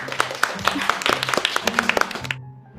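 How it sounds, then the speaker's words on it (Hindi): Scattered clapping from an audience with mixed voices and music underneath, ending abruptly. "तो आइए जोरदार तालियों से उनका स्वागत करते हैं।"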